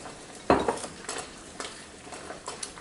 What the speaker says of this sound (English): I'm going to drop my butter right in there into my top pan, as well as my chocolate chips